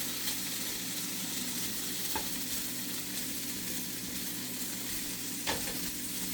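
Potatoes with vinegar fry in a pan under a steady, dense, hissing sizzle, with an occasional faint scrape of stirring.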